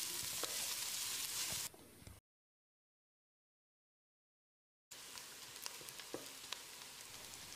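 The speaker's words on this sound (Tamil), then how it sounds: "வெங்காயத்தை நல்லா பொன்னிறமாக வதக்கிடலாம்." Steady sizzling and crackling of onions frying golden in a hot pan, cut by a few seconds of silence before the sizzle resumes, with occasional stirring pops.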